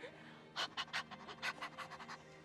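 A person imitates heavy, intense panting: a quiet run of about a dozen quick, rasping breaths in an uneven rhythm, close and breathy.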